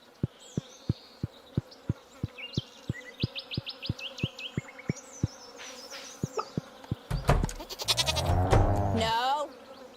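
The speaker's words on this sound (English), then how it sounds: "I just hear a lot of bees." Bees buzz in the Stardew Valley farming game, a faint buzzing over a steady ticking rhythm and scattered chimes, followed by a louder burst of game effects near the end.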